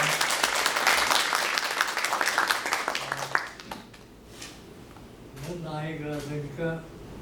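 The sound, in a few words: audience applause welcoming the opening speaker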